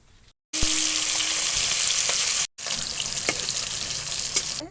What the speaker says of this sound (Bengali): মাছে নুন হলুদ মাখিয়ে মাছ ভেজে নেব।